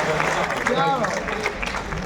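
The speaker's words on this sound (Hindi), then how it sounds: "एक बार थोड़ा तालियों का उत्सव कर दीजिए" A crowd at a Hindi poetry gathering applauds steadily throughout, with a voice speaking over the clapping.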